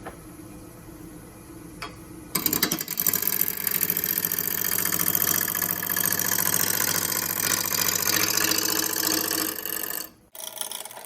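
A wood lathe runs up to about 800 RPM while turning a wooden mortar and pestle, a loud steady whirring drone with a rhythmic ticking rasp that starts abruptly and cuts off near the end.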